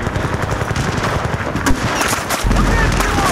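Battlefield Bad Company 2 gunfire rattles loud and nearly continuous, rapid shots blending into a dense battle din with no pause.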